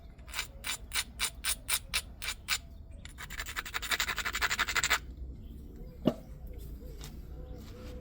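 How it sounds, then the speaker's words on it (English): Edge of a native Arizona obsidian flint-knapping preform being ground down, a run of rapid rhythmic scraping strokes followed by a denser two-second rasping burst and one sharp click near the end, close and clear. "Let's grind it and try to get that big bump off."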